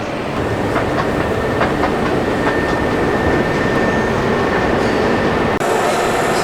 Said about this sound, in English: This train is going to Gent